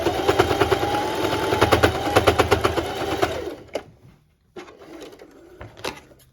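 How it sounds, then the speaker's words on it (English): A sewing machine stitches face mask fabric with a rapid, even mechanical chatter for about three seconds, then stops. Faint handling noises and a few soft clicks follow. "And then I sew down the side that I only sewed a single time."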